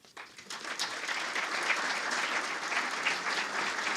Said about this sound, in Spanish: Y ahora sí, recibamos con un fuerte aplauso a don Juan Ramón Pardo.